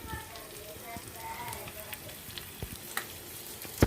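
Chicken fry sizzles in an iron kadai, a quiet, continuous crackle of frying with scattered small pops and a louder clink near the end.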